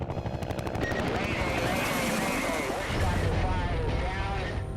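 Dense gunfire crackles continuously across a Vietnam War helicopter landing zone, amid the roar of helicopters and a chaotic battle din, with voices mixed in.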